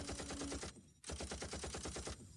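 Machine-gun fire from the video game Combat Actions: Vietnam rattles in two rapid, evenly paced bursts separated by a short pause, loud and close, with no voices over it.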